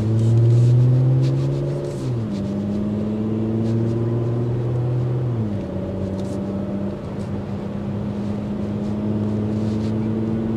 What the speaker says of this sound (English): The exhaust does filter in nicely.